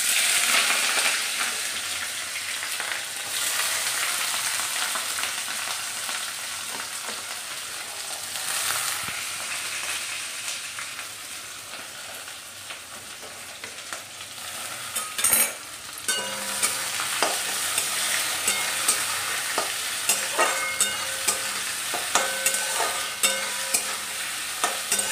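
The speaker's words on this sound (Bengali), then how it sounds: "এই পেঁয়াজটা এবার লাল লাল করে ভাজা অবধি একটু ভাজবো।" Onions sizzle steadily in hot oil with bay leaves, cloves and cardamom while a spoon scrapes and stirs the pan, the sharp stirring clicks growing more frequent later on.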